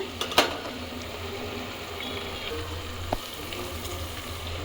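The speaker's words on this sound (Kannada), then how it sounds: "ಹಸಿಮೆಣ್ಸಿನ್ಕಾಯಿ ಹಾಕ್ಕೊಂಡು ಇದನ್ನು ಫ್ರೈ ಮಾಡ್ಕೊತೀನಿ" Green chillies fry in a pan with a constant soft sizzle and a couple of sharp clinks near the start and partway through, with no voices.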